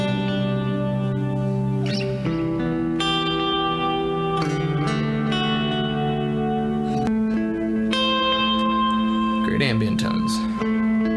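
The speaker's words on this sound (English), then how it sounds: "for all of my clean tones here, I'm just rocking Archetype Nolly. It's using the pristine clean preset there" A GOC Materia 3.ECO 7-string electric guitar plays a clean tone through the Archetype Nolly pristine clean preset, ringing chords and single notes that sustain smoothly with a shimmer of effects, loud and alone.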